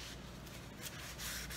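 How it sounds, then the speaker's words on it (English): A cloth rubs briskly over a glass jar wiped down with alcohol, a soft, steady, close squeaky friction that keeps going without pause and with no talking. "First, I want to make sure that my glass is clean of any fingerprints."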